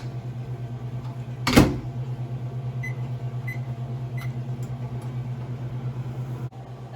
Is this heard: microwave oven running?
yes